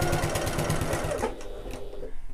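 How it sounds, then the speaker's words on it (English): A sewing machine stitches across the end of a tab on an adventurer sling bag, a fast, close, steady mechanical chatter for about a second before slowing and stopping. "So I'm just going to sew on the very end for the minute just to hold that in place."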